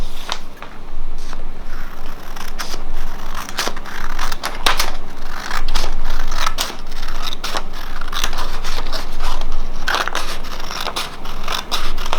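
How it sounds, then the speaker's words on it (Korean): Paper scissors cut through a paper sewing pattern for a handmade vest, making a continuous series of close, crisp snips and rustling paper scrapes with no voice over them. "자, 가위로 잘라볼게요."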